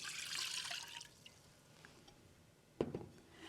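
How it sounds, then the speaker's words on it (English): Oat milk is poured into a pot on a stove. A faint liquid trickle comes first, then a short, sharper splash near the end. "we're going to pour in our oat milk"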